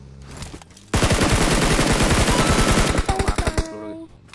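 Random automatic gunfire in a mobile shooter game, a long rapid burst of loud shots starting abruptly, then a few separate trailing shots at the end.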